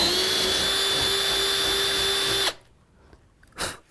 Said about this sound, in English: we've got a drill here, and we're going to put a hole in the board